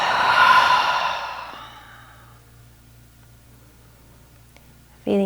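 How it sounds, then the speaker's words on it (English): A long, slow exhale out through the mouth, an audible breathy sigh that fades over about two seconds into near silence, close and alone. "Cleansing breath out through the mouth."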